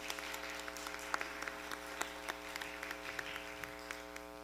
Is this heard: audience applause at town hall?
yes